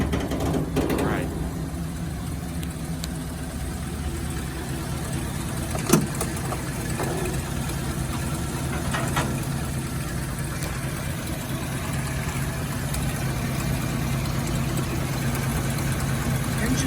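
A 1947 Packard Super Clipper engine idles steadily, a smooth low rumble that continues without a break, with a faint mechanical click partway through.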